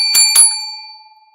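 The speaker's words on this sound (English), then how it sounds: "and he banged on the bell" A shop counter bell is struck twice in quick succession, each bright ding ringing out clearly, then a long metallic tone lingers and slowly fades to silence in a quiet, dim room.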